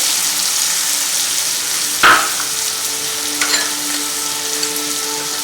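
Fried chicken sizzles steadily in a pan as spices go in, including ginger-garlic paste, chilli powder, coriander, cumin and pepper powder. A loud, constant crackle is broken by a sharp stir or clatter partway through.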